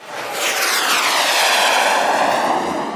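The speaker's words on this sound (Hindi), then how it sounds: "जैसे ही उसने बटन दबाया, रॉकेट बम ने जोर से आवाज की" A rocket firework launches in a sound effect: a loud, close, sweeping whoosh swells in and roars on steadily for about three seconds.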